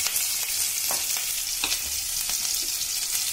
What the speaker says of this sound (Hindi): 1 मिनट तक इसे भून लें।